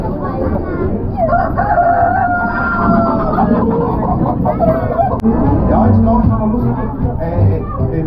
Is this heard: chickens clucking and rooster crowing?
yes